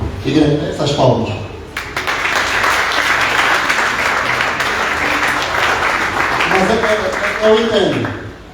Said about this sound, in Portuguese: Igreja, essas palmas.